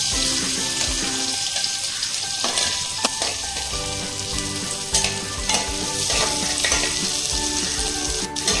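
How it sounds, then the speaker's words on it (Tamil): Onions sauté in oil for vegetable sambar, a loud, steady frying hiss with occasional stirring knocks, heard under background music without any talking. "நல்லா வதங்கிட்டே இருக்குது"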